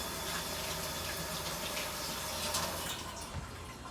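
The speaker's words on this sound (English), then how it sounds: "Let me wash my hands." Tap water runs steadily as hands are washed beneath it in a home kitchen, a close, continuous splashing gush lasting the whole moment, with no talking.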